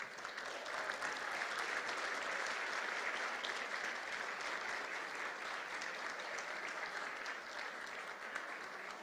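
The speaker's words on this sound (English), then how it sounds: "give a round of applause for everyone who donated tonight" Sustained applause from a large audience fills the room at a charity gala, a steady dense patter of many hands clapping at moderate distance with no voices over it.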